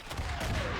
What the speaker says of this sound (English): Yeah, I don't want to be hammered by that artillery.